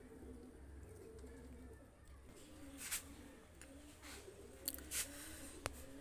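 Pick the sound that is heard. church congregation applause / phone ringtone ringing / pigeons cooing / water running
pigeons cooing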